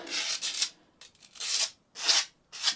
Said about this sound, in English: just grab some 240 grit sandpaper